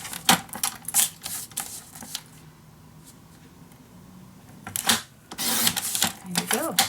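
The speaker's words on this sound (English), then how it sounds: "I'm just going to cut from mark to mark." Paper being cut from mark to mark for a vintage winter mini album, heard as a run of crisp, rapid snipping bursts at the start and again near the end, with a quiet stretch between.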